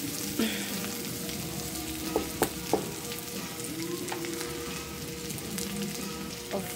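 Leftover fish frying with aromatics in a pan, giving a continuous crackling sizzle with a few sharp pops and stirring clatters, close and fairly loud.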